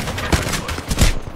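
Gunfire in the battle royale game Apex Legends, a handful of loud punchy shots at irregular intervals over a busy game background.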